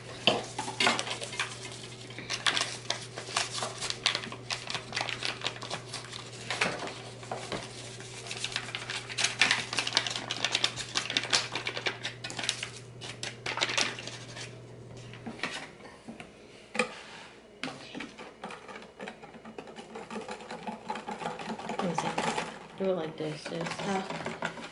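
A whisk beats pudding mix and milk in a medium bowl, giving rapid, continuous clicking and scraping strokes while people talk throughout.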